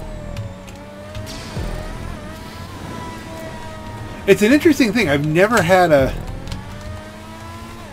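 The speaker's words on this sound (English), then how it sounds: "knowing that there's someone approaching by the sound of that high whine" High-pitched race car engine whine from open-wheel racing in GTA5 Online, rising and falling in pitch as the car accelerates and shifts gears, loud for a couple of seconds mid-clip, with someone talking throughout.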